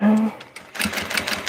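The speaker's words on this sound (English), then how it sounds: "I'm going to sew straight across one side" A sewing machine stitches straight across a collar point on a Vogue 1870 garment with a 5/8-inch seam allowance, a brief steady motor hum with a short spoken word over it.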